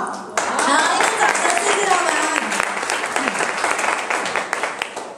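Audience applause at a skincare product sharing event, a dense, steady wash of clapping from a large crowd that starts abruptly and holds at full strength throughout, with no voices standing out.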